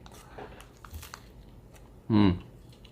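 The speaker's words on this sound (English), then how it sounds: "Things that are a manaka are like this, like a wafer, crunchy waffle sort of thing." A crunchy manaka wafer shell with yuzu jelly filling is bitten once, giving a short, loud, close crunch near the end after a quiet stretch with faint rustling.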